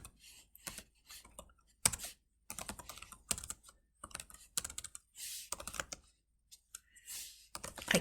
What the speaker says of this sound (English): I can't type and talk at the same time